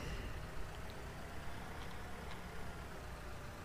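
A tractor in Farming Simulator 2013 idles steadily while reversing, giving a low, continuous engine rumble at constant level with no speech over it.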